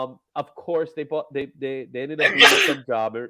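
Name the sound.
sneeze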